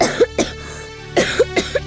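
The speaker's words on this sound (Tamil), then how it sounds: "ஒன்றும் இல்லைன்னு எப்படி இருமுன பாருமா" A young woman on a Tamil TV serial coughs in a run of short, harsh bursts, several spaced coughs close to the listener with no talk between them.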